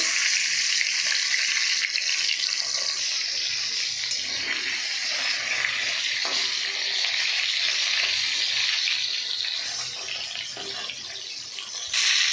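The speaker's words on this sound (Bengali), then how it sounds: "বন্ধুরা, আমার মাছ ভাজা হয়ে গেছে," Fish frying in oil in a pan gives a steady, bright sizzling hiss that holds for the whole stretch. It is close and moderately loud, with a soft clatter near the end.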